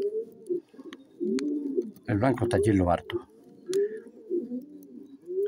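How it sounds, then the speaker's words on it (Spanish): Pigeons coo in a low, repeated rolling rhythm across the whole stretch, close by, with a short burst of talk breaking in midway. "Está ahí la paloma"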